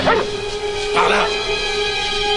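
Police dogs tracking give two short, close barks or yips in quick succession.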